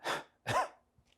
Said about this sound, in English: The other technique with deep breathing called huff cough